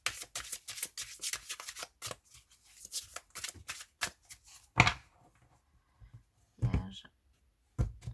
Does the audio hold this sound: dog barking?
no